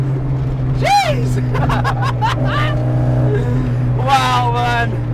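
A Ford Fiesta XR2 with an ITB 2.0 Zetec engine hums steadily under way on back roads, its engine drone continuous and close, with voices exclaiming over it in bursts.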